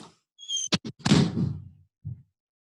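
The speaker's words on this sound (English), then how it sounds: "Shut the door." A door is pushed shut indoors, with a short squeak followed by a couple of sharp knocks and a heavy thud that tails off, then one softer bump.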